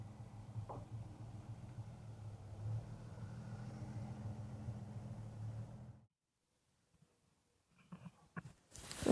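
A Rover P car engine runs with a steady low rumble as the car is moved, fairly close, then cuts out abruptly, leaving near silence with a few small knocks and a brief loud burst at the end.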